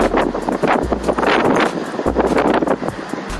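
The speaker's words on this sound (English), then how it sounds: "sorry if it sounds a little bit windy" Steady, loud wind through open windows buffeting a microphone inside a moving car, with low rumbling gusts and broad rushing noise throughout; no talking.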